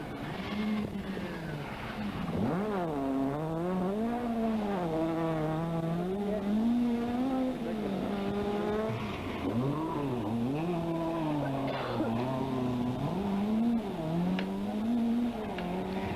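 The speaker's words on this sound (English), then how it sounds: "driving the Little Sunbeam very well" Rally cars race on a stage at the 1982 Cork 20 Rally, including a Sunbeam. Close, loud engines rise and fall continuously through repeated gear changes and revs, with no talk.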